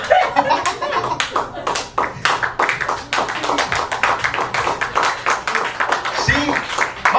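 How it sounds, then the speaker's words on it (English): An audience claps loudly and fast, a dense irregular volley of hand claps from many people with scattered voices and laughter mixed in. "clap as loud as you can."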